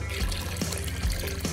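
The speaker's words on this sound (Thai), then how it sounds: "ตอนนี้ฉันจำเป็นต้องเทน้ำผลไม้พวกนี" Fruit juice poured into a bucket, a steady liquid splash and trickle running throughout at moderate level, with a few light knocks and no talking.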